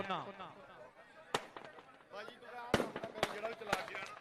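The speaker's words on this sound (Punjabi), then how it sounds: "ਪੜਾਕੇ ਨਾ ਚਲਾਓ ਮੇਰਾ ਵੀਰ ਬਣ ਕੇ ਪੜਾਕੇ ਨਾ ਚਲਾਓ" Firecrackers go off at an outdoor kabaddi match, a handful of sharp cracks in quick succession near the end, heard among people talking over a loudspeaker.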